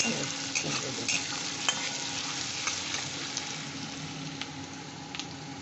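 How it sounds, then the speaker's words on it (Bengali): Pumpkin pieces being sautéed and stirred in a hot pan for an egg-pumpkin dish: a continuous close sizzle broken by light scraping strokes and small clinks. "বন্ধুরা আমি এবার কুমড়ো ব্রেড করা কুমড়োটা দিয়ে দিলাম দিয়ে এটাকে একটু কষে নেব"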